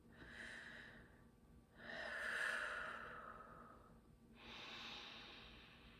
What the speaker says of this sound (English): just start by taking a couple of deep breaths